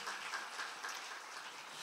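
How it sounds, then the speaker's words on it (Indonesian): Church congregation applauding during a sermon, a soft, fairly distant patter of many hands clapping steadily for a couple of seconds. "Yang percaya boleh kasih tepuk tangan dulu yang luar biasa."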